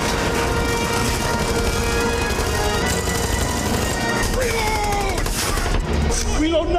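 Automatic gunfire in a dense sci-fi battle scene from The Matrix Revolutions, loud and continuous throughout, mixed with crashes and a busy soundtrack, with a brief voice near the end.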